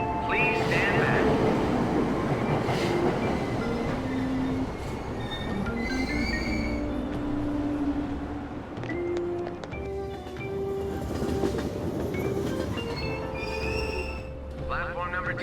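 A subway train in the Persona 5 video game pulls out of a Tokyo station, a steady rolling rumble with rail clatter and brief squeals running throughout, close and fairly loud, under automated platform announcements.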